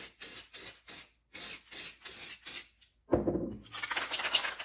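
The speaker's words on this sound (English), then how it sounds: "Spray on a gold." Several short bursts of gold aerosol spray paint hiss in quick succession onto a canvas, then a longer scraping, rustling noise follows close by.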